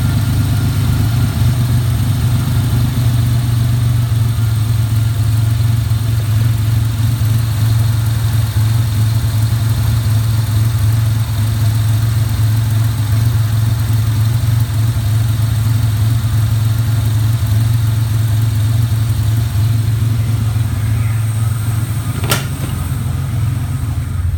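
A 1988 Ford Ranger engine idles steadily and close by, a continuous low rumble with an even beat holding throughout with no voices, one brief sharp tap near the end.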